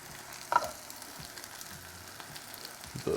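Peppers sizzle on a hot Ninja Foodi Pro XL grill griddle with a steady, close crackle of frying, a couple of brief clatters punctuating it.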